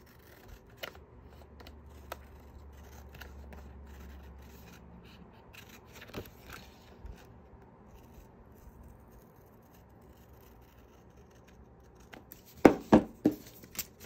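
A few quick snipping cuts of scissors through paper near the end after a long stretch of quiet shuffling and handling while making a card; close and fairly crisp.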